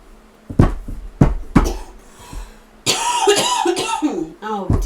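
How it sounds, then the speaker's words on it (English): A woman with a dry voice coughs in several sharp, close bursts, a few spaced hits followed by a rougher cluster, then she speaks up briefly at the end. "Oh dear, now I'm coughing."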